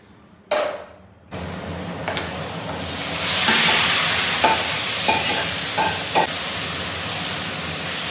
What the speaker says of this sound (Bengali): তো এখন চিকেনটা রান্না করব গ্রেভি করে আর কি, ঝোল করব না, একদম মাখা মাখা শুকনো করে করব